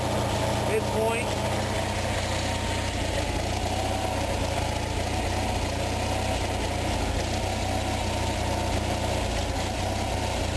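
An Onan engine runs at idle with a steady low rumble during carburetor work, close by and continuous, with only slight variation in its level.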